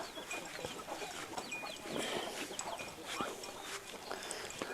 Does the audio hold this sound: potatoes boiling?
no